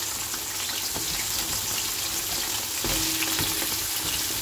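Taro and potato pieces frying in oil tempered with black cumin in a wok, giving a steady, close sizzle with faint scraping and stirring and no talk.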